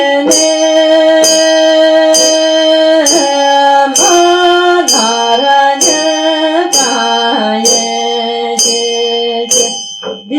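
A ritual bell rings at a Chöd practice, struck in a steady series of bright, loud, resonant strokes that linger and overlap, with a sustained tonal melody underneath.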